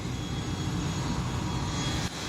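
An IndiGo airliner's engines just after landing on a Lakshadweep airstrip, a steady broadband roar and hiss at moderate distance with no voices.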